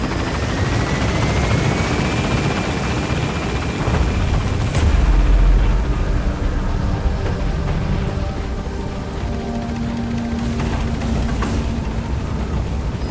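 B-Quad helicopter lifting off from a landing zone in Metal Gear Solid V: The Phantom Pain, a steady loud rotor whir and turbine whine filling the scene, with a heavy low thump midway as it gains altitude.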